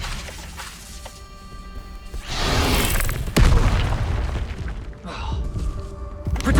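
Expelliarmus spell effect in a Harry Potter video game (Trials of Merlin challenge), a loud booming whoosh and crash layered with magical shimmer, with a voice casting spells over the top.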